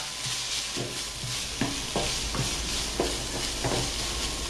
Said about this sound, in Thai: ผัดให้มีกลิ่นหอมนะครับ